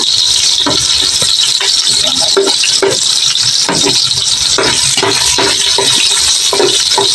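Onion added to a hot frying pan, a constant loud sizzle with repeated scraping and stirring clatters throughout.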